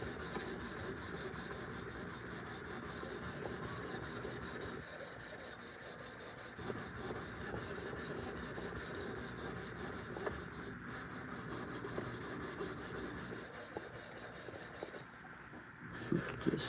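Kubey D2 steel knife being sharpened on a stone along its secondary edge bevel, giving a steady close rasping rub that continues unbroken, with a brief dip near the end.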